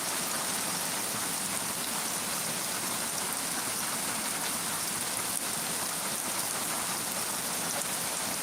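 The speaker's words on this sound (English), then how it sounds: "Here it comes raining some more." Heavy rain falls steadily during a flash-flood season, a dense unbroken hiss of drops on surfaces, close and loud throughout with no voices.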